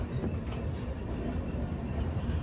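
A Mumbai to Howrah Mail passenger train runs steadily between Chhattisgarh and Odisha, its loud continuous rumble and wheel clatter filling the whole stretch without pause.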